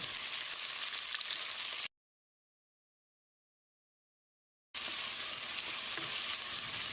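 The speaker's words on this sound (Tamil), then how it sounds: "வெங்காயத்தை கண்ணாடி பதத்துக்கு வதக்கிடலாம்." Steady sizzling of onions sautéing in a pan, cut off by a stretch of total silence before the crackling resumes.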